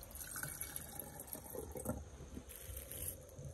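Water is poured into a container for a garlic and vinegar ritual, a soft, faint trickling and filling sound with small splashes, heard alone without talk.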